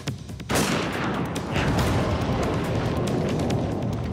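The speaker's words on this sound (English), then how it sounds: "The Raufoss round blasts through the wall and into the ballistic gelatin." A sniper rifle firing a Raufoss round through a wall into ballistic gelatin: one sudden, powerful blast that rolls into a long, sustained roar and rumble, loud and close, with no talk.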